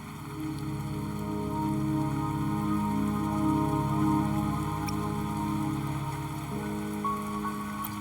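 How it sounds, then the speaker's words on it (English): Rain falling in the video game Wuthering Waves, a steady wash of drops on surfaces carrying on evenly over a layered, sustained musical score with no speech. "Don't worry, the rain won't last much longer."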